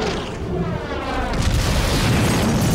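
Missiles explode in a monster movie city attack, making one loud, continuous stretch of deep, rumbling booms and blasts that fills the whole moment with no talk.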